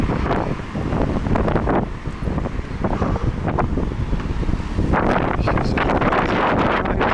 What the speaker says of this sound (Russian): Чем ближе ко второй линии, тем сильнее ветер.